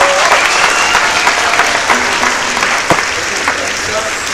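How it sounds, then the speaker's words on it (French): Loud, sustained applause fills a church during an evangelist's service, the crowd clapping vigorously with some voices mixed in. "Je vous demanderai d'abord d'acclamer très fort."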